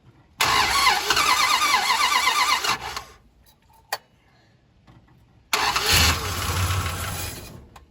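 A 1971 Dodge Charger Super Bee engine catches and runs loudly, cuts off into near silence with a brief click, then fires up again and rumbles at idle.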